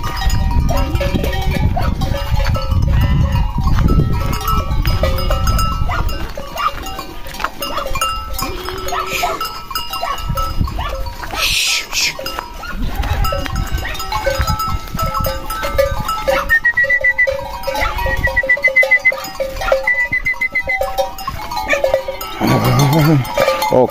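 Goats bleat repeatedly on a farm, one goat having an udder problem, with overlapping cries near and far, a clanking cowbell and occasional talk in between.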